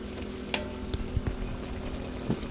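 Garlic cloves sizzle and fry in a pan for crawfish étouffée, a steady hiss broken by a few scraping stirs and soft knocks as they are moved around.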